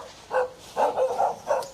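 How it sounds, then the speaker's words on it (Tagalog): A dog barks four times in quick, uneven succession, fairly close and clear, with no talking over it. "Tumatawal yung aso, eh."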